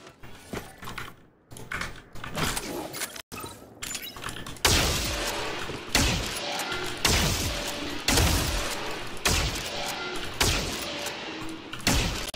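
Marshall sniper rifle shots in Valorant, several sharp, loud cracks with decaying tails fired at spaced intervals, mixed with game clicks and mechanical clatter.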